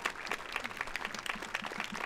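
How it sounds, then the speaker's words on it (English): Brief, fairly faint audience applause at a school band concert at Bellows Free Academy, a short burst of scattered clapping from a small gathering. "So big round of applause to all those folks."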